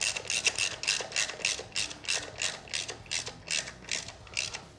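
Allen bolts being tightened on an aluminum velocity stack of a Cobra Powerflo air intake on a 2013 Harley-Davidson, heard as a steady run of about a dozen quick ratchet clicks, close and fairly quiet.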